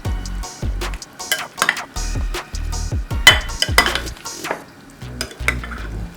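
Avocado salsa is stirred with a spoon in a bowl after a tablespoon of vegetable oil goes in, giving a steady run of quick, close clinks and wet scraping strokes with no talking.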